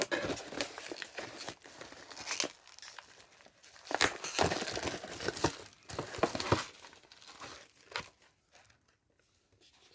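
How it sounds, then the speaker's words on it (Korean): Plastic wrapping on a random collectible sticker pack from a convenience-store ramen product is torn and peeled open, giving close, quiet crinkling and tearing in short bursts that fade to near silence at the end. "그럼 랜덤 실을 뜯어 볼게요"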